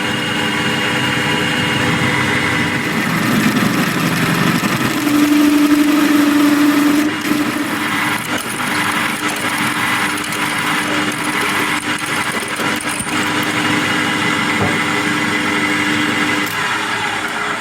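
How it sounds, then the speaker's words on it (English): A power drill steps from a 6mm to a 10mm bit while drilling out a hardened stud, giving a loud steady motor whine with a brief high-pitched screech partway through. "so what we'll do with this is pilot drill them first, because I'm going to have to drill at least a 10mm hole."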